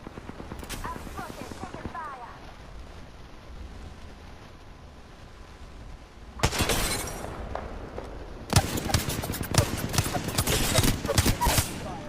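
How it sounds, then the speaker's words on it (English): Gunfire in the Apex Legends video game: bursts of rapid automatic shots and loud impacts, growing denser toward the end, with a player talking over the battle. "I'm taking fire."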